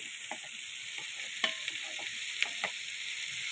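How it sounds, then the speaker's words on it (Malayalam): Large tomatoes sauté in a pan for chicken curry, giving a quiet, continuous sizzle with a few light knocks of a spoon stirring, and no talking. "നല്ലൊന്ന് വഴറ്റിയെടുക്കാം"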